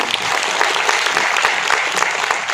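An audience at a public event applauds, a dense, steady burst of clapping that holds at an even level throughout.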